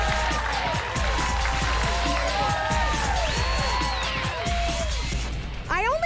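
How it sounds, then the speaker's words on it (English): A comedy club audience applauds comedian Jessica Curson, with steady clapping mixed with whoops and cheering voices that fill the room throughout. "Everybody clap your hands for Jessica Curson"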